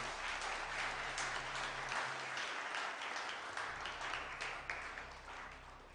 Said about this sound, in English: I think he deserves a big clap this time